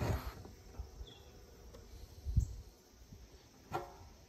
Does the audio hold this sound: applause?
no